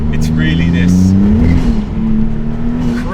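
Maserati MC20 supercar engine pulling under acceleration, a steady droning growl rising slightly in pitch, heard from inside the cabin beneath someone talking.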